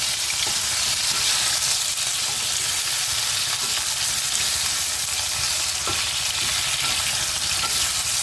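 Arbi (taro root) fries in a pan and is stirred, a loud, close, unbroken sizzle and crackle with occasional scraping knocks of the spoon and no speech.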